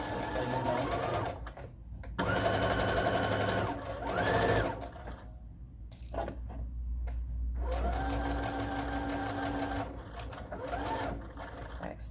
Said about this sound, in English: Back stitching creates that knot that keeps your threads from coming loose